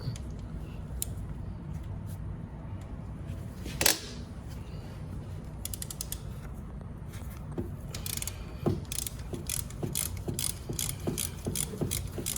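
Ratchet working a 14 mm bottom alternator bolt on a 2000 Toyota Corolla, with bursts of quick mechanical clicking, sparse early then denser and steadier toward the end, over low garage background noise; one sharp knock stands out near the start.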